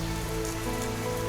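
Steady rain falls on a surface, a dense, continuous hiss at constant loudness that cuts off abruptly at the end, with no voices.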